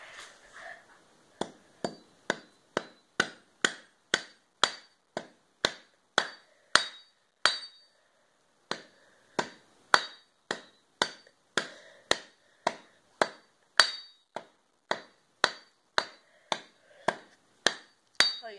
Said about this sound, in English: with the hammer, I'm going to try to smash this piece